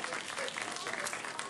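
A theater audience cheers and applauds as a guest of honor comes down the aisle at a 90th birthday celebration, a dense, continuous burst of clapping and crowd noise filling the room.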